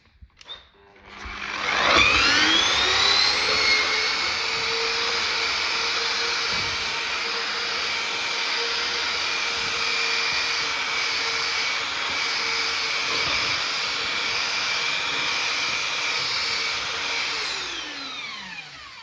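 A long-handled giraffe drywall sander grinds down bumps on wall panels: its motor spins up, holds a loud, steady whining drone for about fifteen seconds, then winds down.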